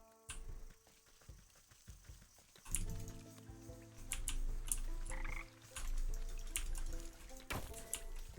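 A frog croaks in the video game Wytchwood, with repeated low, throaty calls and clicky chirps layered over soft in-game ambience and scattered dripping ticks, fairly quiet overall.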